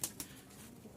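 Pigeons kept for sale at a Dhaka market coo faintly and close by, with a couple of brief soft flutters at the start.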